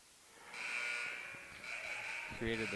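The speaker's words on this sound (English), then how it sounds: "We've got the buzzer buzzing here a few times." Basketball arena buzzer at a girls' high school game sounds as a sustained electronic tone, sounding repeatedly over crowd noise and nearby talk.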